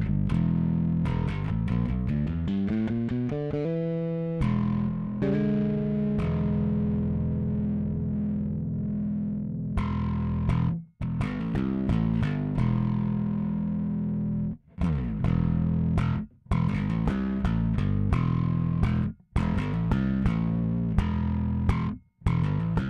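Dingwall Combustion bass played through a Dingwall 35th Anniversary drive pedal straight into a recording setup, giving a loud, distorted, gritty bass riff with sustained notes, several brief pauses and choppy bursts.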